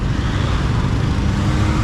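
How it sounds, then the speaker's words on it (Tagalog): Steady road traffic in Puerto Princesa fills the clip with a continuous close rumble of passing engines and tyre noise, no voices heard. "i-vlog ko sa inyo yung traffic dito sa Puerto Princesa"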